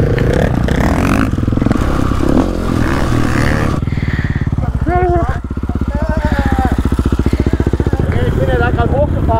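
Supermoto motorcycle riding off-road over rocks, its engine droning loudly and steadily throughout with rising revs and scraping, clattering bits, while people talk over it.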